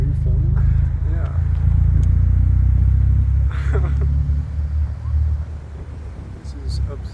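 A Mazda Miata rolls along a wide park sidewalk with a heavy low engine and road rumble filling the cabin, steady and close, while people inside talk over it.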